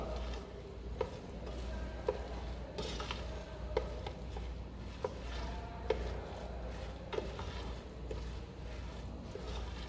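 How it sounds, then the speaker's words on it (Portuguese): Herbs being stirred into a pot of rice with cricket, heat switched off, in a Caribbean-style kitchen: a steady scraping stir with periodic clinks of a spoon against the pot, close and moderately loud, with no talking. "Colocamos o cheiro verde, já com a panela desligada, e só misturar"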